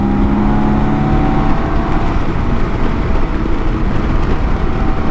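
A BMW K1600 GTL motorcycle pulls hard to overtake on a winding road, its engine note rising under heavy, continuous wind rush from close by.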